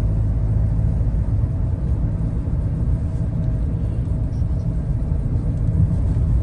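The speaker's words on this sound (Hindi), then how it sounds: "चलिए अब मैं इसे 2000 RPM पे लेके जाता हूँ।" Mahindra XUV700 engine holding 2000 rpm on a busy highway, a loud steady low rumble and road drone that fills the cabin without a break.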